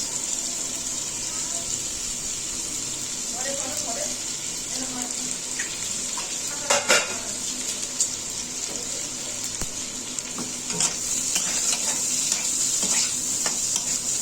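Onions frying in a pan for Bengali aloo paratha give a steady, close sizzle with a bright hiss. Occasional clinks and scrapes from stirring come through it, and there is a short louder flurry midway.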